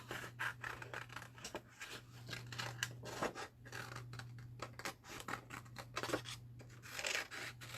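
Scissors snip and rustle through paper while fussy cutting pieces for a Graphic 45 Fairie Wings minibook, a close, steady run of crisp cuts and paper handling over a low electrical hum.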